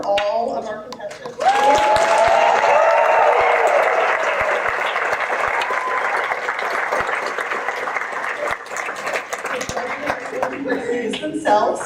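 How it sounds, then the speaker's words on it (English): A convention audience claps for costume contest entrants, a dense, loud burst of applause that starts after a brief spoken line and holds steady for about ten seconds before thinning out, with a few voices and laughs mixed in. "Applause for all of our contestants."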